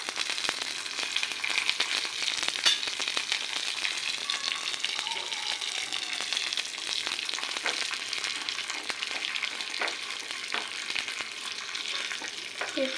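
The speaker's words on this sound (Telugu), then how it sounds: "బాండీ పెట్టి అందు మీద ఆయిల్ వేసి మనం పోపు వేద్దాం" Urad dal, chana dal and cumin seeds tempering in hot oil in a kadai, a loud, even crackling sizzle that runs steadily throughout, close and unbroken.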